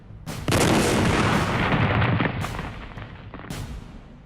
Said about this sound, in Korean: 거대한 폭발음과 함께 행사장은 아수라장이 되었고